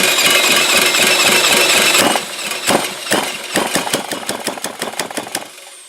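A small Tecumseh engine runs with a steady roar, then settles into a rough, uneven idle with a rapid series of sharp knocking pops before stopping.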